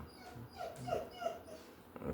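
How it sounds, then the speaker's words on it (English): A puppy indoors gives a run of short whimpers and yips, close and moderately loud, with a sharper bark-like yelp near the end and no talking. "The puppy never stops talking."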